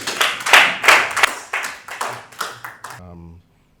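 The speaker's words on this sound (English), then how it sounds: "A round of applause, please." Audience clapping at a corporate executive talk show for the CEO, sparse and uneven claps in loose bursts that thin out and stop, followed by a brief voice at the end.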